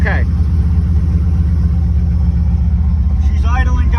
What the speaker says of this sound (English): She's idling, guys.